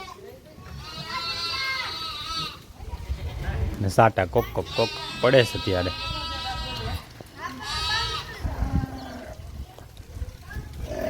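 Sheep and goats in a livestock pen bleat repeatedly at close range, several overlapping cries rising and falling, while people talk nearby.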